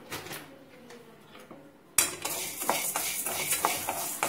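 Urad dal and spices dry-roasting in a pan, heard as light scraping and clinks of a spoon against metal, quiet at first and then louder and busier after a sudden jump, close and without speech.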